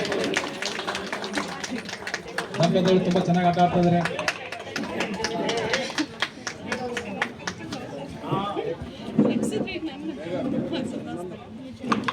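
Audience clapping loudly at a dance performance, rapid claps running through crowd chatter and someone speaking over it.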